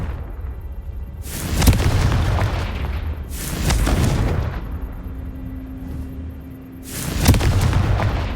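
Three heavy booming spell blasts from the Confringo fire spell in the Hogwarts Legacy video game, evenly spaced and loud, each with a deep low rumble that tails off, with no talk over them.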